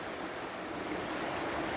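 A stream at Horseshoe Falls state park rushes steadily in a continuous, even wash of water with no voices, moderately close and unbroken.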